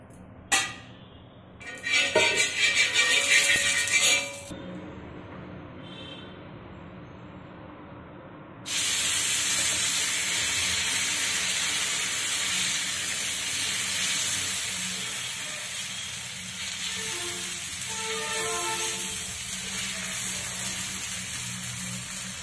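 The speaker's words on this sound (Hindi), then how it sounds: "तवा रख दिए हैं, तवा पे थोड़ा तेल लगाएंगे।" Oil hissing on a hot tawa griddle, a sudden loud sizzle bursting up and then settling into a steady, close hiss that continues with slight fluctuations.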